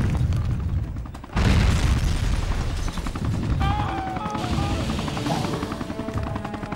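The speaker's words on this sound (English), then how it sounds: "since I picked up a missile pack, I got a tail of half, and now I get to use it to throw 3 missiles" Missiles thrown by the Hulk in the video game Hulk: Ultimate Destruction burst in a loud, sudden blast followed by sustained rumbling explosions and debris, with faint game tones underneath.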